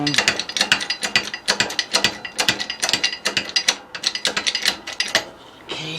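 Rapid ratchet clicks come in quick bursts while a fastener on the primary pulley is tightened during a JF011E / RE0F10A CVT transmission rebuild, loud and close with a short pause near the end.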